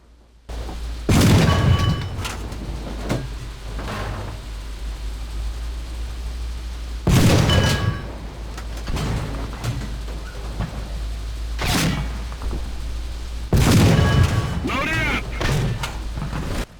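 Tank main gun firing in the War Thunder video game played in virtual reality: several loud booming shots spaced seconds apart over a steady engine rumble, with someone talking between them.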